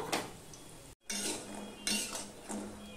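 A pot of cooked lentils set down on a kitchen stove gives several sharp metallic clanks and clinks, close and fairly quiet, spaced about a second apart with no talking.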